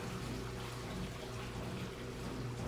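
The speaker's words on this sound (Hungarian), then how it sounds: "Úgy csobog, mint egy vízesés. Vagy talán... A mosógép az!" A washing machine splashes water in a steady, continuous rushing and sloshing wash, moderately loud and unbroken, with no voices over it.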